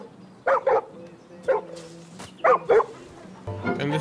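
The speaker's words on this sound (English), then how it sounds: "And this dog doesn't shut up." A dog in the video game Far Cry New Dawn barks repeatedly, short close barks in pairs with brief gaps, then a muffled rumble of game sound at the end.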